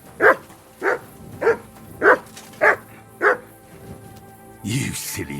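A dog barks six times in a steady, evenly spaced series in Kingdom Come: Deliverance II, loud and close, followed by a brief rustling burst at the end.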